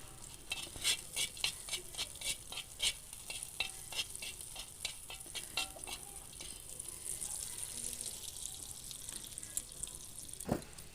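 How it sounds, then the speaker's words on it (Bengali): Dried red chillies fry in hot oil for a lentil mash, with a continuous sizzle broken by a rapid run of crackling pops and stirring clicks that thin out toward the end, then one final knock. "তাই এখন শুকনো লঙ্কাটা ভাজা ভাজা হলে তার মধ্যে দিয়ে দেব পেঁয়াজ কুচি"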